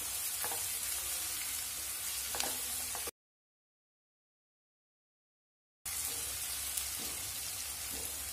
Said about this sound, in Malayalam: ഇതിൻ്റെ അകത്തേക്ക് 2 പച്ചമുളകും കൂടെ ചേർത്ത് വഴറ്റി കൊടുത്തോളൂ.